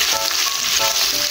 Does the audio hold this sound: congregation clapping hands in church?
no